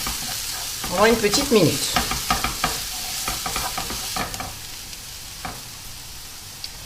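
Flour cooking in a pan for a beef stroganoff, with irregular scraping and stirring strokes against the pan over a soft sizzle, while a voice speaks briefly in French.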